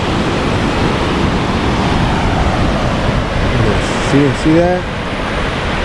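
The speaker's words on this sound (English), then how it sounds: "Nice waves." Ocean waves at Puerto Escondido, Baja California, roar as a loud, steady rush of surf close by, and someone speaks briefly over it near the end.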